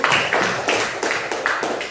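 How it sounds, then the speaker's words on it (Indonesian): Classroom group clapping in an Indonesian school lesson, a run of quick, regular bursts of many hands in a rhythmic pattern, fairly close, with no voices over it. "Tepuk tangan lagi."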